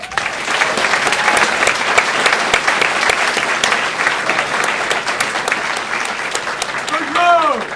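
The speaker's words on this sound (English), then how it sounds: "Please join me in a round of applause for all of our awardees." A graduation ceremony audience gives sustained applause for the awardees, a loud, dense wash of many hands clapping continuously for several seconds, with a brief faint vocal sound near the end.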